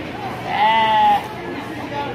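A single short goat bleat rings out nearby at a county fair, nasal and wavering, over a quiet background.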